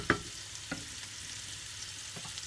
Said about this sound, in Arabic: هي البصله ملي تقلى كتعطي رغوه زوين